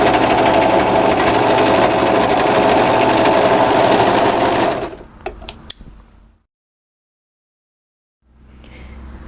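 A domestic sewing machine stitches the side seam of a sweatshirt in a steady, loud close-up run of about five seconds, then slows with a few clicks and stops before a short silence and faint room noise.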